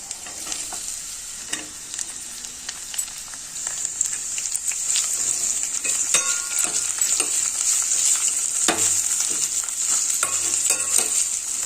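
Carrot and onions for a hotel-style aloo puri curry fry in a pan with a steady, close sizzle and occasional stirring scrapes. The hiss swells louder partway through and continues throughout.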